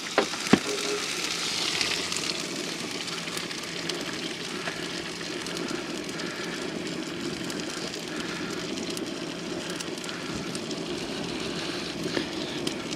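Peppers and eggs frying in a pan at a campsite, a steady close crackling sizzle with a few sharp pops and clicks at the start, continuing evenly throughout.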